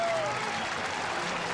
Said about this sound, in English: A round of applause for the veteran right-hander.